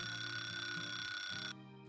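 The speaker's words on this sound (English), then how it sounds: "I stopped my alarm" An alarm clock rings with a steady, shrill electronic tone, loud and continuous, then cuts off abruptly near the end, leaving a low hum.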